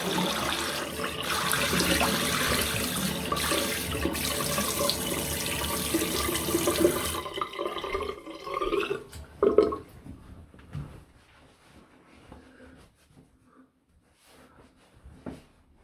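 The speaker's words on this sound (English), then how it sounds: "Just going to take a bit to rinse the residual slickness off." Cold water runs into a bathroom sink and is splashed onto the face to rinse off shaving lather, a steady close rush that stops about halfway, followed by a few faint drips and light handling sounds.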